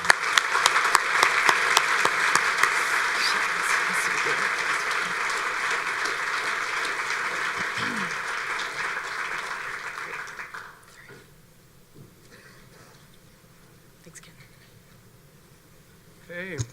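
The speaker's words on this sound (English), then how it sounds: "If we can all give them a big round of applause." An audience gives sustained applause as a processional is welcomed onto the stage at the 2018 Borlaug Dialogue. The clapping is dense and loud for about ten seconds, then fades to a quiet hall with faint murmurs.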